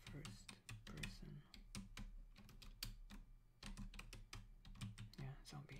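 Rapid typing on a computer keyboard, a close run of crisp key clicks in uneven bursts with brief pauses, accompanied by soft speech.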